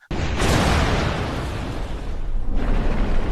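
A film bomb explosion: a sudden loud boom bursts in and rolls into a long, dense roar that slowly fades before another blast of rumbling noise swells.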